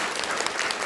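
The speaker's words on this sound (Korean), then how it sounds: "우리 함께 박수 한번 보내드리고 싶습니다" Applause from an audience of business owners at a GOVVI academy event, a brief, dense burst of clapping at even loudness.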